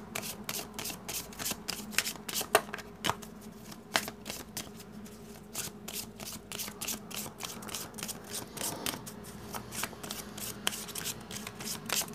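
A Gypsy (baralho cigano) card deck being shuffled by hand: rapid, repeated crisp riffling and slapping of cards in steady bursts, close up and alone.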